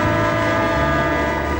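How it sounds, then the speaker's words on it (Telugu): A train arrives in a Telugu film scene, a loud, steady rumble and clatter that fills the whole moment without a break. "అరే ట్రైన్ వచ్చేసింది"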